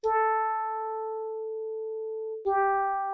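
A two-operator FM synth tone from a Liven XFM holds a steady pitched note for over two seconds, then a second note strikes abruptly, clean and bright with no talk.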